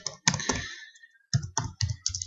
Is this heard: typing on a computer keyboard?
yes